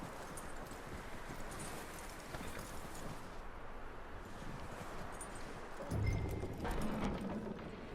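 Horse hooves clip-clop on the ground in Red Dead Redemption 2, a steady, fairly faint rhythm of footfalls beneath rustling ambience, with a brief louder swell near the end.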